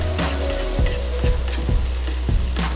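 Hash browns frying in a skillet give a constant loud sizzle with scattered crackles and light scraping taps.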